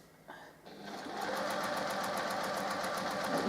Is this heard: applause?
no